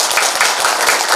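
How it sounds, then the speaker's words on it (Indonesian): A seminar audience in a hotel ballroom claps loudly in brisk, irregular bursts of applause, close and energetic throughout the short span. "Tepuk tangannya yang ikhlas, yang keras."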